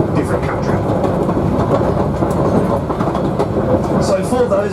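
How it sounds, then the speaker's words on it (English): The Savannahlander train runs on its rails through the Queensland outback from Einasleigh toward Newcastle, heard from the driver's cab as a loud, continuous rumble with a rhythmic clatter; someone talks over it. "I'm driving a train."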